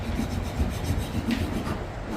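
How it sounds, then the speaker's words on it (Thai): A serrated, saw-like cake slicer rasps back and forth through a red velvet sponge cake, a soft, steady rubbing close at hand with no talk. "ใช้อุปกรณ์ที่เป็นเหมือนเลื่อยแบบนี้นะคะ ช่วยให้เรา สไลด์เค้กได้ง่ายนั่นเองค่ะ"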